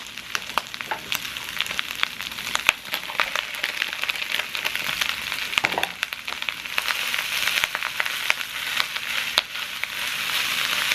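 Fried rice sizzling in a skillet with carrot, ground beef, spinach and egg: a steady, hissing crackle of frying that runs throughout, dotted with sharp pops and occasional stirring scrapes, fairly close and even in loudness.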